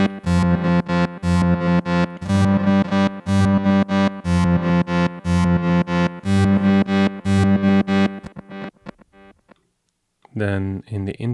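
A run of synth notes with a filter delay echoes into a wide, spatial, arpeggio-like stream of repeating tones for about eight seconds, then fades out before a voice starts speaking.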